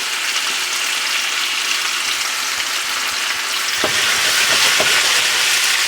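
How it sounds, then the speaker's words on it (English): Meat sears in hot lard with ginger and garlic on a high electric burner, a loud dense sizzle that swells and crackles as utensils stir and clink against the pan near the end. "get the meat in before the ginger and the garlic burns"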